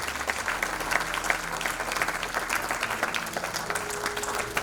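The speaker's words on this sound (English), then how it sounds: "Come on everybody, a round of applause." Audience applause at an awards ceremony in Sri Lanka, steady dense clapping from a large crowd filling the room throughout, with faint background tones underneath.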